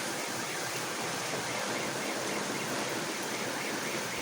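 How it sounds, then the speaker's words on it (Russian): A heavy rain and wind storm in Kurgan pours down as a dense, unbroken hiss of rainfall, steady and fairly loud throughout with no voices. "К нам дождь тут капает."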